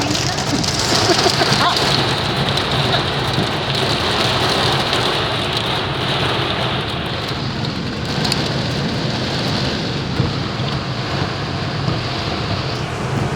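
Heavy rain pours steadily in a storm, a dense loud hiss of drops drumming on surfaces that continues unbroken throughout, with faint talk underneath at times.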